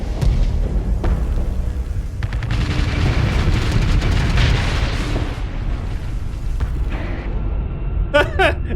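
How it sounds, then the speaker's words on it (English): Pirate battleships trading fire in the Starsector space game, chain guns among the weapons, producing a loud continuous barrage of booms and rapid bursts, with a clipped metallic rattle near the end and someone talking over much of it. "That right there was the chain guns, by the way."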